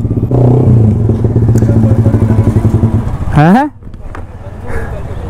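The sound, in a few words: modified Yamaha R15 motorcycle exhaust revving on a long pull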